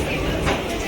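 A train runs on its approach to Ahmedabad, near Sabarmati, in a steady rumble and rattle of rail travel that stays constant and close for the whole short stretch.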